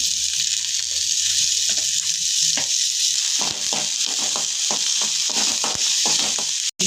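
Green chillies fry and are stirred in a pan, giving a loud, continuous sizzle broken by scraping stirs, with no voices.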